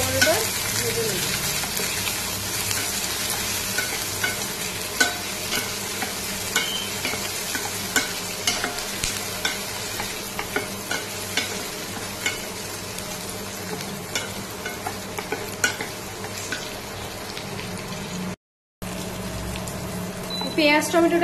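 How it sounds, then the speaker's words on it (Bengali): Onion and tomato fry in oil in a pan with a steady close sizzle, stirred now and then with a utensil, continuing without pause for about twenty seconds with one brief dropout near the end. "আস্তে আস্তে করে পেঁয়াজ আর টমেটোটাকে ভেজে নেবো।"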